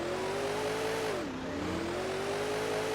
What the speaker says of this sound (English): The car engine sounds sound more realistic.